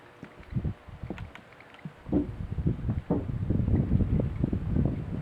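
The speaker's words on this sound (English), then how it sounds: "Now we do have a little wind out here today, so please try and excuse that." Wind gusts across the deck of a 1978 Marine Trader 44 Classic trawler, producing uneven rumbling buffets that start sparse and then build into a steady roar close to the microphone.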